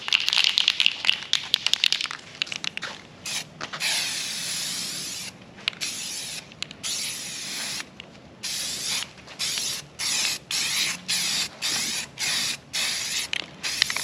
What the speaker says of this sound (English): Lots of light coats.